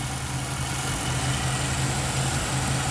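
A 1950 Ford Tudor Custom Deluxe's flathead engine runs at a steady idle, a constant low rumbling drone heard close and alone.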